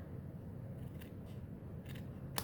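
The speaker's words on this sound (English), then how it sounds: "I'm going to take my scissors and I'm just going to trim that off right here" Scissors trim a strip of paper card on a craft table, giving a few quiet, sharp snips spaced irregularly over a soft background hush, with no talking.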